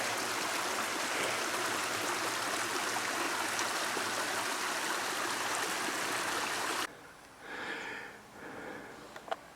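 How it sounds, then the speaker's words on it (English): A stream flows through jungle land beside a tea plantation in Mae Salong, Thailand, making a soft, steady rush of water that continues for several seconds before giving way to quieter, uneven background sounds. "I love the sound of water."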